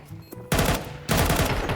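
Counter-Strike gunfire: two loud, dense bursts of rapid automatic shots, close and continuous, with no talk over them.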